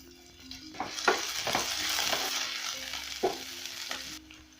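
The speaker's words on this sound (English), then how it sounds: "once my cooking oil is hot enough, I'll go in with my onions." Onions hit hot cooking oil in a pan for a thick lentil dish, sizzling loudly up close while a utensil scrapes and stirs in several distinct strokes.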